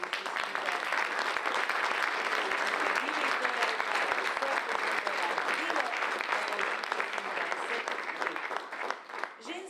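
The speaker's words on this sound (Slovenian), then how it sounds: "Bomo ji kar zaploskali." An audience at an adult choir festival concert applauds continuously for nearly ten seconds, with dense, even clapping that fades slightly at the end.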